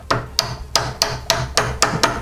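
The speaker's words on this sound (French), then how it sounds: "on va directement y aller au marteau" Hammer blows tap a 3D-printed part into place for a roller shutter repair, eight steady, evenly spaced sharp knocks close by, each with a short ringing tail, and no talk.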